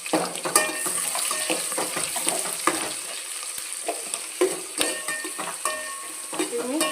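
Ginger garlic paste frying for meal maker pulao, a busy close-up sizzle with a spoon stirring and clinking against the metal pan, steady throughout with repeated scraping strokes.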